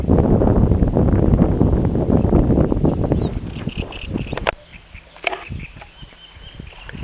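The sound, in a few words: wind blowing on nature walk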